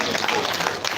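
An audience at a business luncheon during the Ibadan Cultural Festival claps for an honoured Court of Appeal judge. The applause is a dense, steady patter with a crowd murmur mixed in, filling the whole moment.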